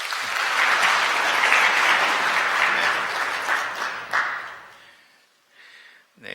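Welcoming applause from a church congregation during Sunday service announcements, loud dense clapping from many people that swells, fades out around the fifth second, then brief scattered claps return at the end.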